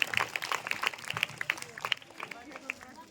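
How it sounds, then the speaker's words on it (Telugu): A group of schoolchildren at a computer-education session for tribal students claps together, with a quick burst of sharp, scattered hand claps that thins out toward the end. Voices are heard around the applause. "సూపర్ క్లాప్స్ కొట్టండి"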